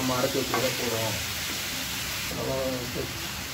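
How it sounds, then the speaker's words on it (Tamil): Onion masala for pepper chicken frying in a pan, a steady close sizzle with rhythmic scraping strokes as it gets stirred, and a voice talking intermittently over the cooking. "அந்த வெங்காய மசாலாவோடு சேர்கிறதுக்கு நல்லா ஒரு கிளறி கிளறி விட்டுருங்க"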